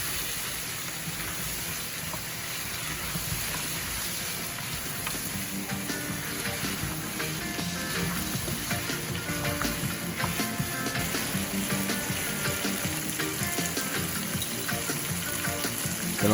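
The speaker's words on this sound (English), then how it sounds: "As you can see, it's starting to brown. It's frying here and searing." Oxtail meat frying and searing in a pot for Guyanese oxtail, giving a steady, dense sizzle and crackle that carries on without a break throughout, with no talking.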